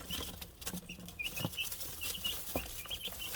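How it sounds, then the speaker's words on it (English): Young chickens in a brooder scratch at the ground, giving faint irregular scuffing and pattering with a few soft peeps, close by and quiet, with no talking. "You can see the chickens now scratching"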